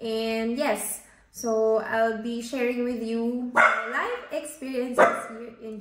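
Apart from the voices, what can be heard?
dog barking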